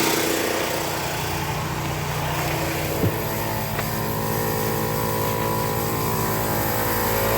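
An RV air compressor on a Holiday Rumbler motorhome runs steadily and loudly throughout, a constant motor drone with one brief knock partway through and no talking.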